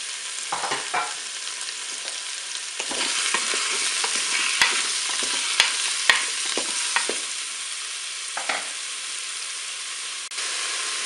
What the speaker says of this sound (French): je vais pouvoir faire revenir mes boulettes de bœuf